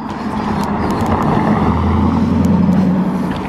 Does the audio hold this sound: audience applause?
no